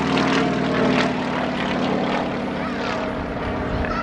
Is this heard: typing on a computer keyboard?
no